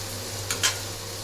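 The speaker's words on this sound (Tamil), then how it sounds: "ஹை ஃப்ளேமில் வச்சுட்டு நல்லா ஒரு தொலாவி விட்டுருணும்." Biryani meat stirred in a pan over a high flame: a low steady hum underneath and two quick scraping, sizzling swishes of a spoon close by, with no voices.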